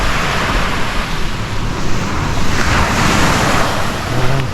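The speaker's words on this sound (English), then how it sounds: "Welcome to Thomas Beach." Surf at Thomas Beach in Bali, a continuous loud wash of breaking waves with gusty wind noise buffeting the microphone.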